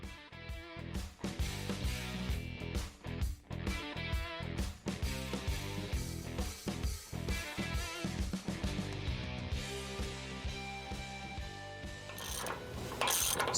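A ratchet tightens steering gearbox bolts on a Ford F-450/F-550 4WD truck, making rapid bursts of close, sharp clicking that come in quick strokes and then turn into a denser, steadier ratcheting run, with no talking.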